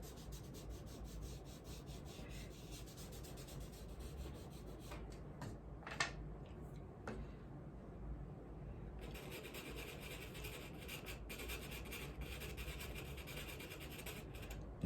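Pastels rubbed and blended on sandpaper for a portrait drawing: a steady, close, gritty scratching that continues throughout, with a few brief taps and a quieter pause midway.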